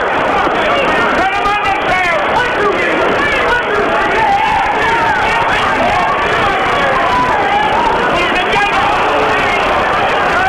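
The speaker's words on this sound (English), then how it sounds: "you can hear the big crowd shouting right behind me there" A big crowd at a Muhammad Ali boxing fight roars and shouts without a break, a dense, loud wash of many voices that fills the whole stretch.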